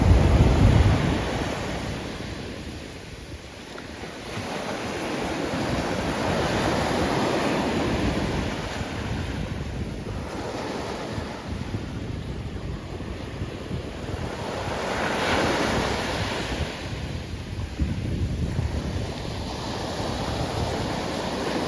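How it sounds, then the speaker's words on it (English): Ocean surf rolls in at Ponte Vedra Beach in a steady, loud wash, with waves swelling and breaking in slow repeated surges under gusty wind noise on the microphone, and no voices. "It's a pretty wide ocean out here."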